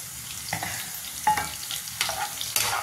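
Green chillies sizzle and crackle in hot tempering oil over a full flame, with a steady frying hiss. A spoon scrapes and knocks against the pan at intervals.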